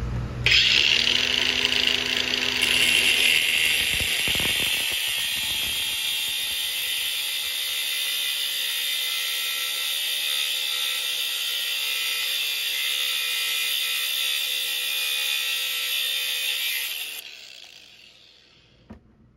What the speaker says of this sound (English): I'm gonna grind off those pieces of metal there.